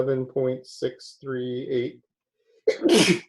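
A single sneeze bursts out alone after a pause, near and sharp, following someone talking through a math lecture.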